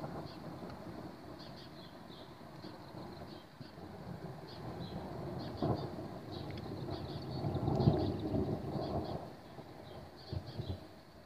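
Thunder from a thunderstorm rolls in low and distant, swelling into a deep rumble near the middle and fading again, under a steady hiss of wind or rain with faint high chirps overhead.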